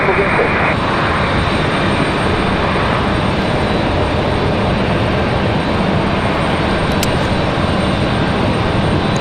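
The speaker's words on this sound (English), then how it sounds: "Looks like our next departure is going to be that Southwest Max 8 headed to Denver," A Southwest Boeing 737 Max 8 departing Raleigh-Durham International toward Denver, a loud, dense jet engine roar filling the whole span, close and unbroken.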